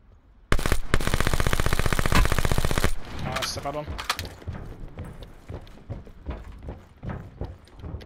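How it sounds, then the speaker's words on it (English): Loud rapid automatic gunfire in Call of Duty Blackout on the Alcatraz map, a sustained burst of about two and a half seconds, then scattered quieter single shots, footsteps and game sounds. "That's 3 shots."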